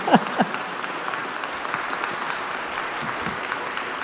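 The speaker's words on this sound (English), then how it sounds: "Let's give our candidates a round of applause." Applause from the audience at a central Indiana candidate forum, a steady wash of many hands clapping across the room with a few sharper claps near the start.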